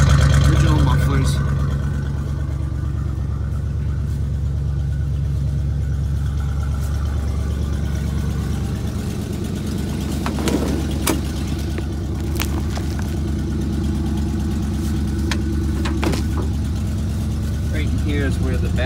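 A 1988 Chevy R30 truck idles after a cold start, a steady low rumbling engine close by that runs the whole time, with a person talking over it and a few clicks and knocks around it.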